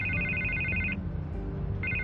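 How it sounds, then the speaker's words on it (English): A telephone rings in Batman: The Telltale Series video game with a bright electronic trill, one ring for about a second, a short pause, then the next ring starting, over a low rumbling game background. "I can't get the phone to stop ringing."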